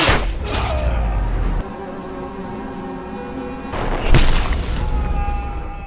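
Gunshots in an action film scene land as loud, sharp booming blasts, one early and one near the end, with a sustained tonal drone between them.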